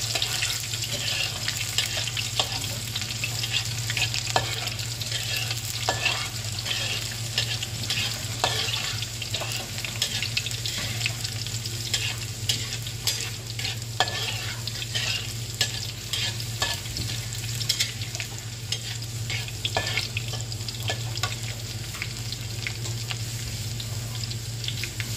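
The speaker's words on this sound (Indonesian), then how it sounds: "Ini bawang merahnya yang saya iris-iris tadi saya goreng" Sliced shallots frying in oil in a pan, a constant loud sizzle with scattered scraping clicks of a utensil stirring, close and unbroken throughout.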